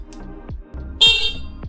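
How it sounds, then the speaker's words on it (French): A loud, shrill electric motorcycle horn blasts once for about half a second, harsh and close, after some low rumbling handling noise. "Parce que moi j'ai un klaxon de moto maintenant"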